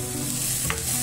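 Onion sizzles and is stirred in a hot pan while sautéing for sinigang, a close, steady frying hiss with a brief scrape.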